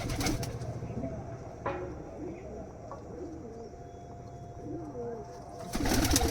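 Pigeons of an imported bloodline in a loft, soft cooing calls and a few chirps scattered across a steady low background, with faint rustling nearby.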